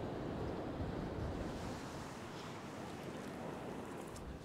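Ocean surf breaking on a fishing beach, a continuous loud wash of waves with wind buffeting the microphone, steady and close throughout, no voices.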